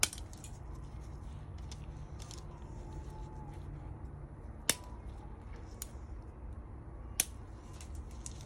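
Cutters snip the button piece off a homemade UV resin pop socket, two sharp isolated clicks, about two and a half seconds apart, against a quiet room hum with no talking.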